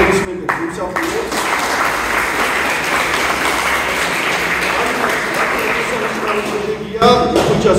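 Applause rolls through the room at a professional boxing press conference, a sustained bed of clapping from the audience, loud and even, with brief talk at the start and end.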